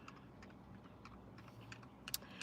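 Slow, uneven pecking on a computer keyboard, with sparse individual key taps and a couple of sharper clicks near the end over a quiet room background.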